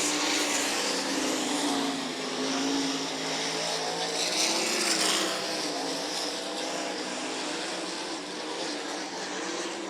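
360 sprint cars roar around the oval at 34 Raceway on the final lap, a dense, continuous engine drone that holds steady and loud for the whole stretch without any clear voices.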